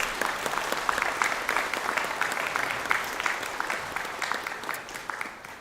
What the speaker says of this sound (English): And could we have a round of applause, please, for our graduates?